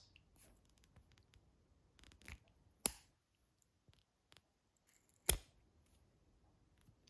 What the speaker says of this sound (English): So you cut the 3/16 of an inch tubing on a bias very,